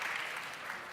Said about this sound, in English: clapping it for everyone